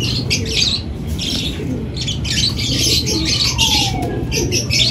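Racing pigeons returning to their loft during a training flight make a busy, continuous scene of chirps, squawks and fluttering wings, loud and close throughout.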